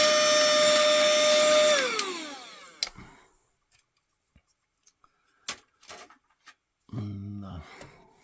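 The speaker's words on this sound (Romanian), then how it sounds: "Da, un pic de aspiratorul." A vacuum cleaner sucks dust out of a PlayStation 3 console, roaring loudly for about two seconds before winding down, followed by scattered clicks, taps and handling noises in near silence.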